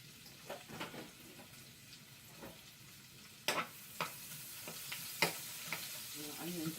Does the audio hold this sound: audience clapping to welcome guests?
no